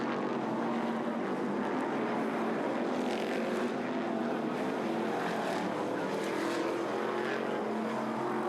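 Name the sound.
V8 stock car engines roaring on race track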